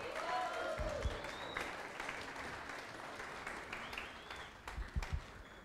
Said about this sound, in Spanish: Un aplauso para nuestro baterista que está de cumpleaños hoy.